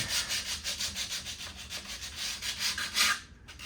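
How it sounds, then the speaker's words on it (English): Steady rhythmic sanding strokes rasp back and forth on wooden instrument sides with kerfing, close and continuous, with a brief pause near the end. "So back to sanding."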